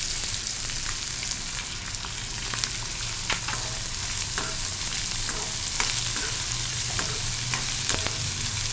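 Finely chopped onion, two onions' worth, sautéing in a pan with roasted peanuts for sponge gourd bharta, a dense, steady sizzle with scattered clicks of stirring, close and loud with no talk.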